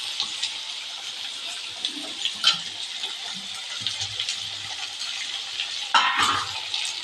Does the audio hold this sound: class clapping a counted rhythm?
no